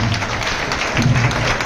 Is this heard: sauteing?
no